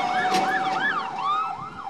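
Wailing sirens from fire trucks arriving at a large fire with explosions sweep up and down in quick repeating cycles, loud and close, overlapping one another.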